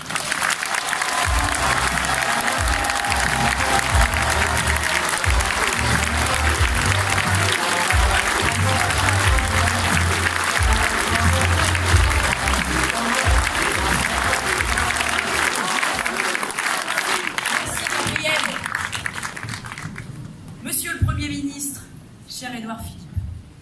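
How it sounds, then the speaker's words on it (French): Sustained, loud applause from an audience at a political campaign meeting in Caen, clapping steadily for about twenty seconds before thinning out into scattered claps and voices at the end. "Je vous demande d'accueillir sous vos applaudissements Stéphanie Yoncourtin."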